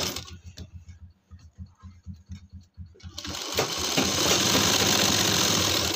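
A sewing machine stitches elastic into a pajama waistband, first in short rhythmic chugging bursts with brief stops, then running steadily and louder for the last few seconds, close by with no talk.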